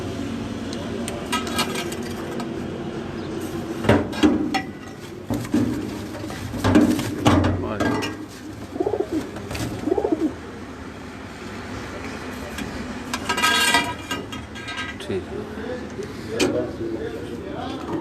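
Breeder pigeons kept in cages, about 55 pairs, give low, repeated coos that come and go. Someone talks over them for much of the time, and there are occasional rustles and clatters nearby.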